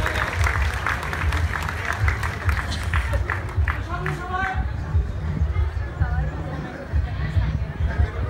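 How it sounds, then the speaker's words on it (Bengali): A crowd applauds at a trophy presentation on a picnic stage, loud continuous clapping mixed with cheering and crowd chatter, with voices talking over it. "আমরা চ্যাম্পিয়ন ট্রফিটি তুলে দিচ্ছি, জোরে একটা হাততালি হয়ে যাক।"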